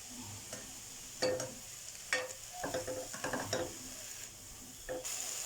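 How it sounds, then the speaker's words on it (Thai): Soft sizzling in a pan with intermittent scraping and clanking of a spatula as garlic and chicken breast are stir-fried, quiet and close. "ผัดให้หอมก่อนนะครับ"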